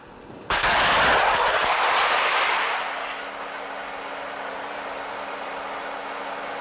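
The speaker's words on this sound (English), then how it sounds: "A bit further out is an M4 Sherman tank that the number 6 vehicle will be firing at." A tank gun fires at an M4 Sherman target in a military live-fire exercise: one sudden, very loud cannon blast with a long rolling decay, then a low steady engine hum.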